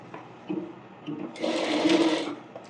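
A sewing machine stitches a half-inch seam in bonnet fabric, running in short bursts at first and then in one longer, louder run with no talking.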